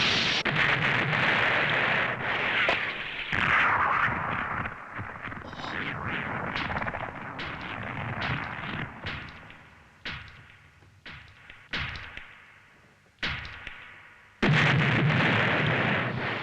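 Cartoon missiles hit in a Cyborg 009 animated battle: a long run of loud, close blasts and booming explosions with rumbling debris, thinning out into separate heavy thuds and sharp bursts, then a final roaring blast.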